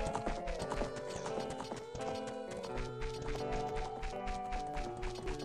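Epona the horse's hooves clip-clop in a brisk, rhythmic trot in The Legend of Zelda: Ocarina of Time, with a neigh and the game's melodic background music playing throughout.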